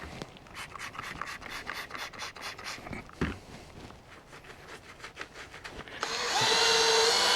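A power drill spins a foam ball applicator, scrubbing Super Clean wheel cleaner over a dirty car wheel, a steady whirring rub with rhythmic scraping pulses that swells into a louder, brighter hiss near the end.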